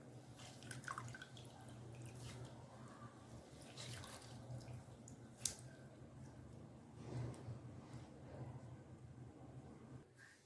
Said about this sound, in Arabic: نعصروه هكا نضغطوا عليه يهبط الماء كامل تحت كما راكم تشوفوا